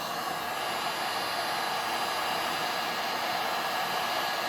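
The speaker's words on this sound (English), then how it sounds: "I'm going to apply a little bit of heat to this bearing." A heat gun blows steadily, warming the inner race of a crankshaft bearing on a Farmertec 288 chainsaw bottom end; one continuous, close, even hot-air roar with a broad hiss and no break or voices.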